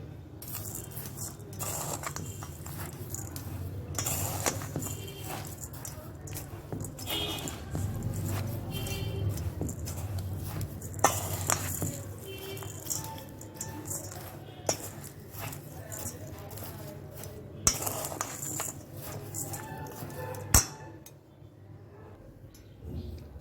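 Ingredients for basanti pulao are stirred together in a pressure cooker, with a spoon clinking and scraping on metal in close, irregular taps and a few louder knocks over a low background, no voices.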